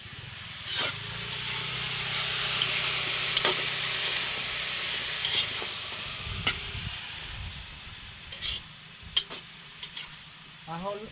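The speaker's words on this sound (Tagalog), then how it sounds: "hahaluin ko lang po to mga kabukid hanggang sa lumambot" Vegetables are stirred in a hot cooking pot, with crabs and fresh greens in a rural kitchen. A loud steady sizzle and hiss of steam fills the clip, and scraping stir strokes and clinks grow more frequent toward the end.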